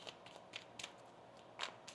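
Tarot cards being shuffled by hand, a quiet series of soft riffling and flicking bursts at irregular intervals, close up with no talking.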